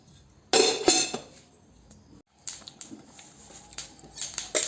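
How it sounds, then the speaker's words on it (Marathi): Peanuts roasting in a pan rattle and clink in loud bursts against the metal, with a short pause midway, followed by scattered lighter clatters close by. "शेंगदाणे भाजूया."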